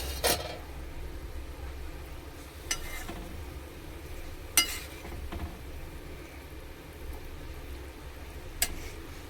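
Rupchanda fish curry with potato and eggplant cooks in a pan, giving a faint, continuous sizzle broken by a few sharp clinks of a utensil against the pan.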